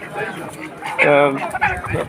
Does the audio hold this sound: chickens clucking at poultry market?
yes